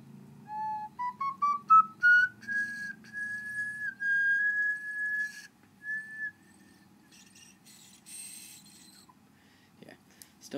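A ceramic ocarina finished in toasted sage with umber float glaze and mother-of-pearl lusters plays a rising run of clear, breathy notes, then settles into a long held tone and a few shorter notes, played alone and close.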